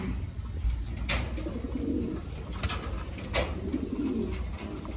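Pigeons from Taiwan, banded with leg stamps, coo in low rounded calls close by, overlapping in a continuous murmur with a couple of sharp rustles or wing flutters breaking through.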